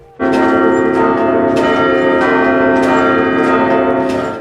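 The bells of St. Michael's Monastery ring continuously with a dense, layered metallic drone, fresh strikes cutting in every second or so over a sustained hum.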